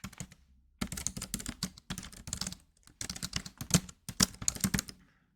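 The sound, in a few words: typing an AI image prompt on a computer keyboard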